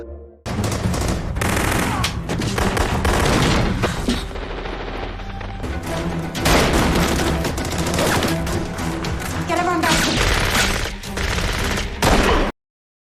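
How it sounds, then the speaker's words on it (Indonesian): A gunfire exchange in a TV series scene: dense, loud bursts of rapid automatic fire and single shots overlap continuously for over ten seconds with heavy booming impacts, no talking. "sontak kesalahpahaman terjadi antara pasukan Omar dan Giorgio hingga menyebabkan baku tembak"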